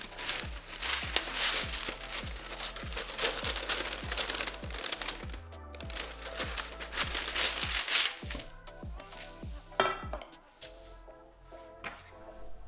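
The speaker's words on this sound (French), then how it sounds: "je commence par faire le tour de mon moule avec mon papier cuisson" Parchment baking paper being wrapped around a tall cake tin, giving close, repeated crinkling and rustling with sharp crackles and brief pauses between handling movements.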